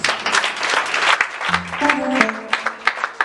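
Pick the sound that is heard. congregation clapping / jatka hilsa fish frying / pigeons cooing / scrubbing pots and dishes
congregation clapping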